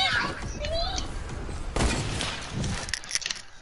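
Sniper gunfire in the Fortnite battle royale game, a sharp loud crack near the middle over busy game noise, with players talking throughout.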